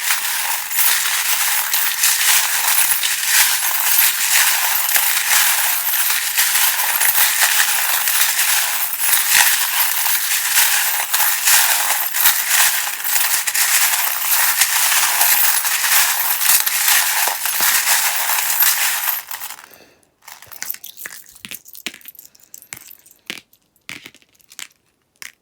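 Tarot cards being shuffled, a dense continuous riffling clatter that runs loud and unbroken for about twenty seconds, then gives way to scattered separate snaps and taps of cards being handled, with no talking.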